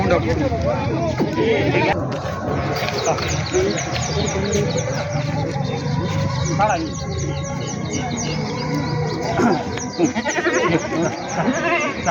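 Goats bleat repeatedly at a busy outdoor goat market in Hingoli, close and distant calls overlapping amid crowd chatter, with people talking throughout.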